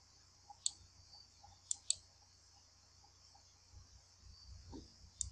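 A computer mouse clicks quietly, with a few sharp, isolated clicks and one quick double click spread across the stretch, against a faint low background hum and no talking.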